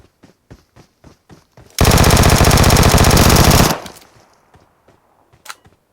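A sustained burst of rapid automatic gunfire in PUBG Mobile on the Erangel map lasts about two seconds, framed by faint clicks and footsteps before and a single shot after.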